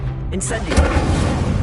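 An Incendio fire spell in Hogwarts Legacy bursts into a rushing, crackling flame whoosh that swells early and then rolls on steadily, with a low rumble beneath it and game sounds around it.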